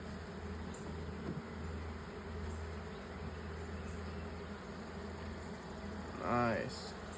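Honey bees buzz in a steady, low drone around an open white hive during an inspection, with a brief closer fly-by near the end.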